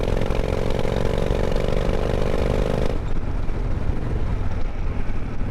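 A 1998 Honda Shadow 1100 shaft-drive cruiser motorcycle rides in fifth gear at about 2,000 RPM, its loud, steady engine drone close and continuous, with the tone shifting partway through as wind and road noise change.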